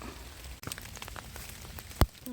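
Rain patters through a winter forest in Germany, scattered drops ticking on leaves and ground with one sharper close hit near the end, soft and steady with no voices.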